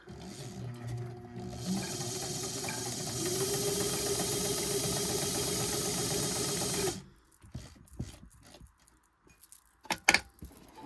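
A Domestic 302L sewing machine stitches zigzag in one long continuous whirring run, close and fairly loud, then stops, followed by scattered handling clicks and knocks.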